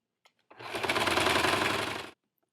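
A sewing machine stitches a circle skirt waistband in one close, steady run of about a second and a half, a rapid even chatter that starts and stops abruptly, with no talk.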